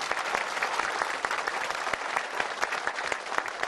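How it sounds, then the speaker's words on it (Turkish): A crowd applauds the head wrestlers at an outdoor welcoming ceremony, a dense, steady burst of many hands clapping that continues throughout without speech. "her iki baş pehlivanıma coşkulu alkışlar"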